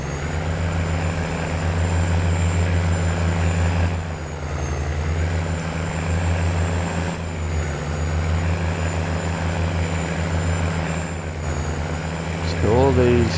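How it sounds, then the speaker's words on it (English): A large 500-horsepower tractor on wide tracks runs its engine at a steady, loud idle, a deep continuous drone holding throughout with a few slight dips, and a brief squeal near the end. "Again, same engine sound."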